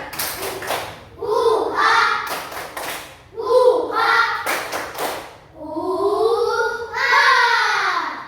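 Schoolchildren in a classroom do a rhythmic spirit clap, with sharp clusters of claps and thumps alternating with loud group chanting across the whole stretch.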